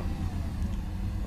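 Bus engine accelerating in the Omsi 2 bus simulator game, a steady low rumbling drone held for a moment, loud and even, with no talking.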